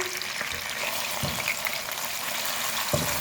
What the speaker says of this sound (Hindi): मिक्स करेंगे, थोड़ा सा फ्राई करेंगे चिकन को लहसुन के साथ।